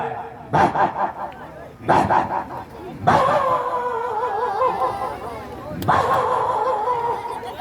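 A performer's voice imitates a pet dog barking and whining, four bursts of yips and bow-wows with wavering whimpers between them, loud and close, within a staged folk performance.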